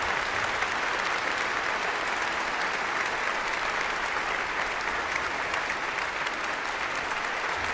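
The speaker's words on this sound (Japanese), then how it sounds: "割れんばかりの拍手" A Vienna concert audience gives thunderous applause after a piano performance, a thick, unbroken roar of many hands clapping at an even level throughout.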